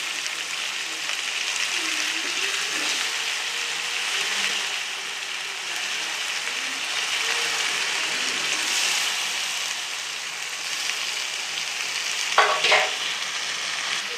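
Chicken with ginger garlic paste frying in a pan, a steady close sizzle with faint stirring scrapes throughout and a couple of sharper clinks near the end, no talk.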